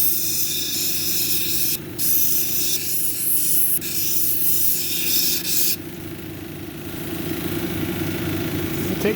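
A Turritella agate cabochon is ground on a 220 grit wheel of a lapidary machine, a loud motor drone with hissing spray-like bursts that start and stop several times over the running grinder.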